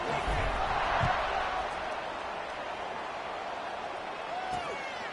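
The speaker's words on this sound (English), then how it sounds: "this crowd is buzzing after that last score" A stadium crowd buzzes with a steady, dense murmur at a Duke vs Tulane college football game just after a touchdown and extra point, with an announcer's voice talking over it.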